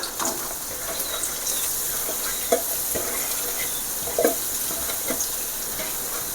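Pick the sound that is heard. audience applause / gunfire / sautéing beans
sautéing beans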